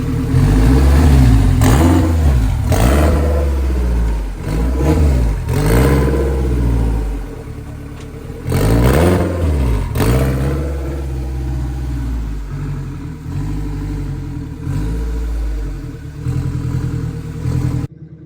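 A turbocharged S50-engined BMW E36 M3 with a new exhaust cold-starts and idles loudly up close, its deep exhaust note swelling through a few blips and settling into a steady, rumbling idle.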